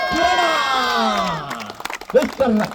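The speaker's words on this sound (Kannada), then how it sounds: "ಕಿರಣನಿಗೆ ಒಂದು ಜೋರಾದ ಚಪ್ಪಾಳೆ" A crowd at a village cricket match cheers and applauds the man of the series, a loud burst of shouting and whooping that settles into scattered clapping and voices.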